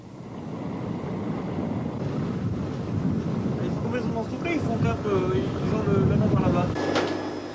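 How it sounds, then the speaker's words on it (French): Strong wind gusting over open sea aboard a small boat people vessel in the South China Sea, a steady loud rush mixed with water and hull noise, with faint voices audible beneath it. "Le vent s'est levé et souffle dans la mauvaise direction"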